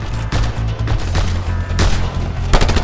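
Rapid gunfire in the Just Cause 2 video game, a dense fusillade of loud, close shots and bursts that crackle continuously with heavy low booms.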